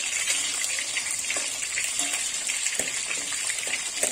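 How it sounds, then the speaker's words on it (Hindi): Onions shallow frying in a pan for South Indian vegetable sambar, a steady loud hiss and sizzle throughout with faint crackles and small pops. "हम प्याज को हल्का सा इधर उधर फ्राई करेंगे"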